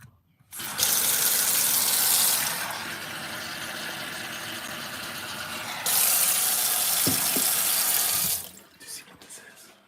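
Water gushes from a sink faucet in a steady hiss, with a louder stretch at the start and another midway, then cuts off near the end, leaving a few faint clunks.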